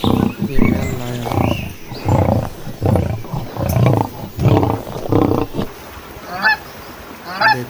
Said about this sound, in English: female lion